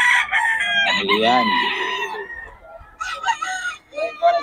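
A Boston Gilmore gamefowl rooster crows once loudly and close at a market, followed by a voice speaking.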